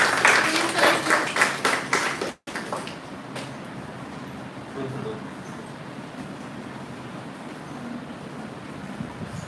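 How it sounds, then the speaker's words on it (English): School audience applauding a student speaker, brisk clapping for about two seconds that cuts off abruptly, followed by quieter room ambience with faint murmurs. "Give her a big round of applause."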